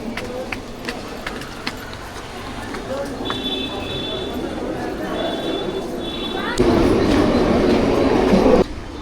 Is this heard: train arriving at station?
yes